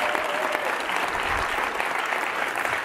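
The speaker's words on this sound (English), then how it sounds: "Let's give a huge round of applause for all of these" Sustained applause from a conference audience honoring a crew, an even wash of many clapping hands at steady volume.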